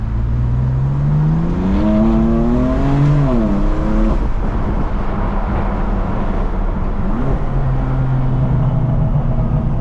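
A loud, close BMW M4 CS engine with its factory CS-specific exhaust revs up in rising, climbing sweeps, then drops back and growls on with a raspy exhaust note.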